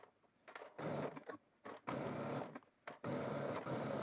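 A home sewing machine stitches a 5/8 inch back seam on stretched fabric in three bursts of steady whirring, each a second or so long, separated by short pauses, with no talk.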